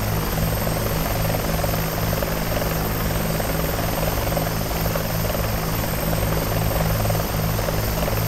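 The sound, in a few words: Bell 412 helicopter in X-Plane 11 flight simulator video game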